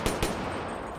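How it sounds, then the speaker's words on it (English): Two sharp gunshots crack in quick succession in an online multiplayer video game, followed by a steady rushing noise, loud and with no talking. "hear my gunshots? You hear anything?"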